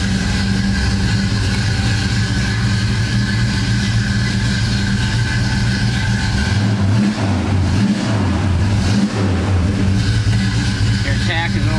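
A 1972 Oldsmobile Cutlass 442 engine runs loud and close with a deep, steady rumble, dipping and swelling in a few throttle blips toward the end.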